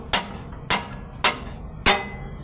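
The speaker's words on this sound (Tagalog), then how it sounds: "So pupukpukin nila yan para maghiwalay." Steady hammer strikes knock a propeller shaft loose from the transmission of a ten-wheeler Howo truck: four sharp metallic blows at an even rhythm, close and loud, with no talk.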